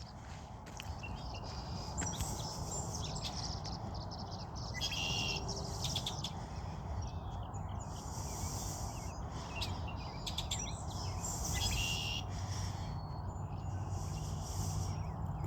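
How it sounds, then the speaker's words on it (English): Repeated songs of a male red-winged blackbird ring out over steady outdoor noise at a Delaware reservoir, trilling calls returning every few seconds at moderate distance. "red-winged blackbirds. Love these guys. They have a great song."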